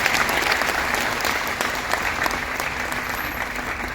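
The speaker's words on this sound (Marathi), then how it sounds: "मला असं वाटतं की त्याकरता संयोग संयोजकांचे टाळ्या वाजवून सगळ्यांनी कौतुकच केले पाहिजे" Sustained audience applause at the inauguration of the 19th Jitendra Abhisheki music festival, a dense steady clapping from a large crowd that fills the space evenly throughout, loud and without pause.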